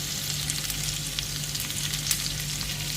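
Mutton boti kabab pieces frying in oil on a low-medium flame, a continuous dense sizzle with a steady low hum underneath, close and fairly loud throughout.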